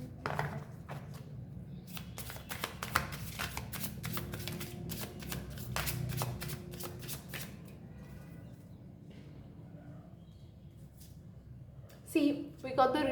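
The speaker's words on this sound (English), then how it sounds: "Cut the cards." Tarot cards are cut and shuffled up close, a run of quick riffling flutters and soft slaps followed by quieter handling and a few louder taps near the end, with faint speech at times.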